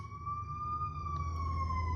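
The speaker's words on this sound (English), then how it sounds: "the siren is always confirmation" A steady wailing siren tone holds a sustained pitch over a low rumble of traffic, sounding somewhat distant.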